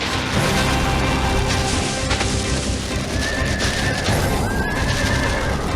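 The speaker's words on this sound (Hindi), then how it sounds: "घोड़ा आगे जाने से डर रहा है" A frightened horse neighs loudly amid a dense, continuous din of hooves and crashing noise in a dramatic scene.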